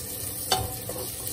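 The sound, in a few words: stirring prawns frying in a pan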